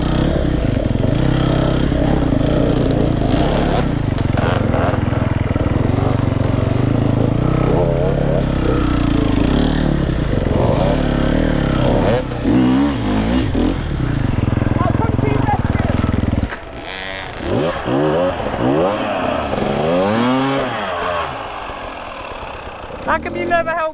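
An enduro motorcycle engine revs hard and steadily while its rear wheel spins, the engine note shifting and wavering, then dropping to a rougher, uneven idle and lighter revving near the end; voices talk over it throughout.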